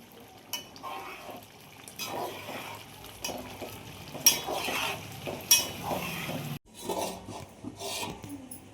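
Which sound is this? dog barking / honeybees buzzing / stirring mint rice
stirring mint rice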